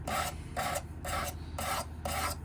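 A knife blade is drawn across the stone of a Work Sharp Precision Adjust sharpener at a 20-degree angle, making five even rasping strokes in a steady rhythm, close and quiet with no talking.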